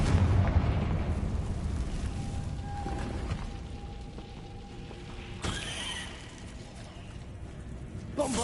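Fiery Confringo spell blasts in the Hogwarts Legacy video game, a loud burst with rumbling booms at the start and another sharp crack midway, over a dense background of game noise.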